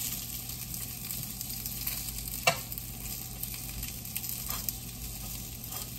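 Steady sizzle of food frying in a pan with occasional pops and crackles, close and continuous, no voices.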